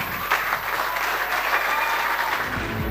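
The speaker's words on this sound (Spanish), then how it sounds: "hay que darle un fuerte aplauso a No Pereira Fariña" An audience at a municipal sports awards gala in Marín claps for an award winner, a dense sustained burst of applause that stays even in loudness throughout, with no clear speech.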